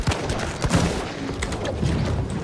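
Rapid shotgun blasts in the Resident Evil 3 demo, several sharp reports in quick succession at close range, loud and with no talk.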